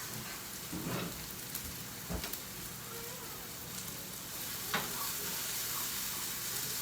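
Vegetables sautéing together in a pan for a lemon cream sauce for ravioli, giving a soft, continuous sizzle with a few faint utensil scrapes and clicks, quiet and somewhat distant, with no one speaking.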